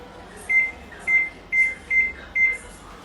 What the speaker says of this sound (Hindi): माइक्रोवेव ऑन करूँ